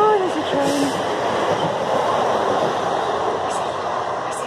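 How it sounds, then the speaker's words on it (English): A train rumbles past as a continuous heavy roar, with a brief high squeal at the start and a voice speaking over it. "Oh, there's a train."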